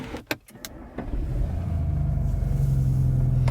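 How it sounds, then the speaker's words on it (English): A VW Golf R Mk8 cold start: a brief starter whir and a couple of clicks, then the engine catches and settles into a steady, low, muffled idle heard from inside the car. "Here's your cold start."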